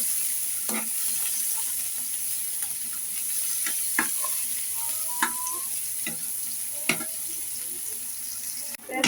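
Chopped onion and green chili frying in hot oil in a pan, giving a continuous crackling sizzle with scattered small pops and ticks, close up and without voices.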